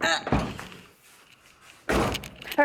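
A rusty Nissan S14 car door with a rotted bottom is forced open in two loud, close bursts of scraping and thudding, separated by a quiet pause, with a voice speaking over the start.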